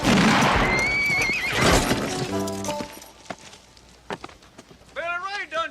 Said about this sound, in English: Settle down. Settle down. Whoa, whoa, whoa,